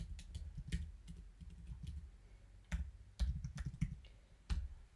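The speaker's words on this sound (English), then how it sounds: "Let me type it." Typing on a computer keyboard: quiet, close keystroke clicks in irregular runs, with a few sharper taps and short pauses.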